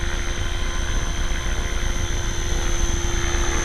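A hobby RC model helicopter with steadily tracking rotor blades spins at constant speed nearby, giving a loud, continuous buzzing whir with a steady high whine and no voices.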